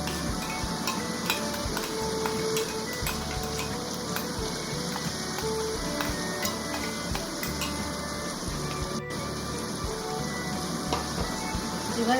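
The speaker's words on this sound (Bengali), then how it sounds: "এবার এটা ভালো করে মিশিয়ে নেব।" Tandoori chicken pieces are mixed by hand or spoon with a raw mango paste of green chili, salt and sugar, a steady wet stirring and squelching that carries on with faint ticks throughout and no talking.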